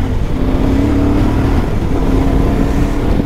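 A CFMOTO 450 MT motorcycle ridden harder along rough dirt trails through potholes, its engine droning steadily and loud with a rising, wavering tone, wind rumble and no voices.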